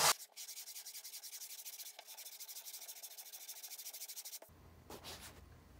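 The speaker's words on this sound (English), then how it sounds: "your sander is not getting to it" Sander working over filler on a shaved LS intake manifold, a rhythmic rasping rub in quick regular strokes, close and steady, that stops abruptly near the end.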